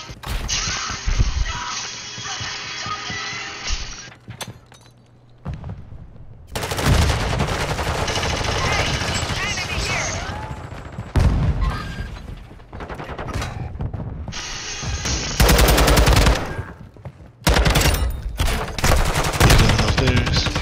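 Rapid automatic gunfire and bursts of shots fill a ranked multiplayer match of Call of Duty: Modern Warfare II, loud and nearly continuous with brief pauses, mixed with game effects and mechanical clatter.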